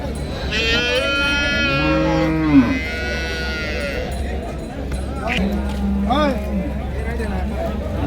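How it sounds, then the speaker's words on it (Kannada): A Jersey cow at a busy cattle market gives drawn-out moos, a long low call followed by shorter ones, while people talk loudly nearby and the crowd murmurs in the background. "ಜರ್ಸಿ ಬೋಡಿ ಇದೆ"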